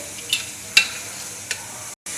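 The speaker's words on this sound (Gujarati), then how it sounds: "હવે તમે જોઈ શકશો આ રીતે કઢી સરસ ઉકળવા લાગી છે, ઉફાણો આવી ગયો છે" Gujarati sweet-and-sour white kadhi boiling in a pot as it is stirred, with a steady low bubbling hiss broken by a few sharp spoon scrapes against the vessel, no voices.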